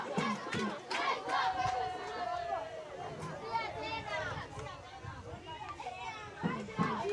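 Kenyan fans at a Saturday under-15 baseball qualifier game roar and shout in a lively crowd, with children's voices and excited cheers carrying steadily, swelling in bursts near the end.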